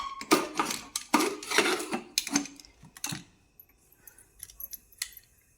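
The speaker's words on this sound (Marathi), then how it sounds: "आता झाकण लावून घेऊया" Metal clinks and clatters a few times up close, like a lid being set on a pot, then quieter scattered taps follow.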